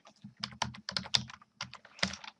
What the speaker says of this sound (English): I do use a macro keyboard, and I can program this entire command, extract wireframe, to a number or a macro key.